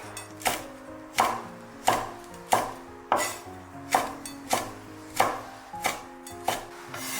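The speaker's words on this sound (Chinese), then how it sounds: "喜欢吃辣的还可以搭配几个小米椒，先给它去蒂，斜刀切成马蹄片" A knife slicing small xiaomila chili peppers diagonally on a cutting board, about a dozen sharp, evenly paced chops close up, each ending in a brief ringing tail, with no talk.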